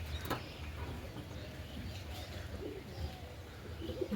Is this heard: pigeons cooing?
yes